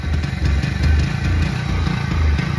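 A Hero HF Deluxe motorcycle engine with an acceleration problem chugs and revs in slow, labored pulses, rising and falling unevenly without picking up speed, loud and close.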